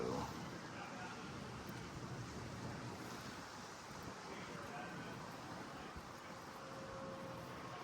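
Gusty wind blows outdoors beside an RV during a sewer repair, a steady broadband rush with rumbling microphone buffeting that fills the whole stretch.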